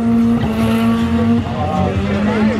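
A Mazda Miata arrives at a drag strip with a loud, close engine drone that shifts in pitch, while voices carry over the noise.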